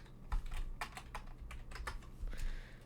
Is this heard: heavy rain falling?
no